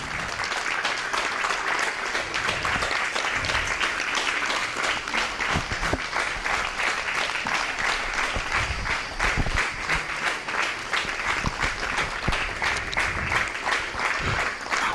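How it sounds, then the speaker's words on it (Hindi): A large audience keeps up sustained, dense applause at a World Environment Day 2025 tree-planting event, with steady, even clapping lasting about fifteen seconds and no talking over it. "तालियों की गड़गड़ाहट बनी रहे।"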